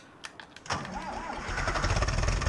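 An Ursus tractor engine in Farming Simulator 19 cranks and catches, then settles into a building low rumble that grows louder toward the end, with a voice talking over it.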